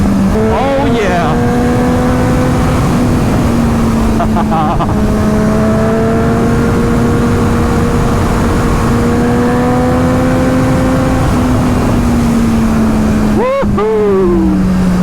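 A 2024 Triumph Street Triple RS motorcycle accelerates hard, its loud engine note climbing steadily through the gears with brief dips at shifts, heard close from the rider's position over constant wind rush.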